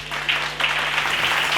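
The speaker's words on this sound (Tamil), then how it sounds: "கைத்தட்டுங்க" Church congregation clapping hands during a Bible study service, a dense continuous wash of applause from many people, fairly loud and steady throughout.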